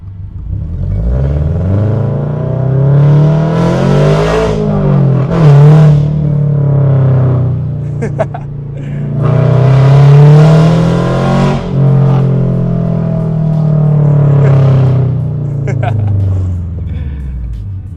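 A Toyota GR86 fitted with catless unequal-length headers drives along with a loud, droning exhaust that swells and fades as it accelerates and shifts, a slight rattle underneath, while people talk in the cabin over it.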